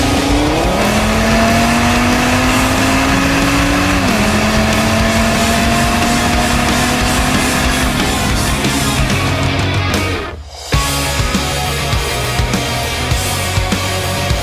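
An Audi Sport car launches hard under launch control, its engine revving loud and close in a steady rising drone that climbs through several gear changes, then cuts off abruptly before a quieter tail.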